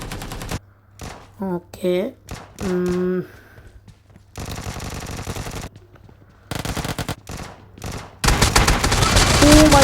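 Bursts of automatic gunfire from the mobile shooter game BGMI rattle in rapid volleys, ending in a loud sustained barrage, while a player talks excitedly between the shots.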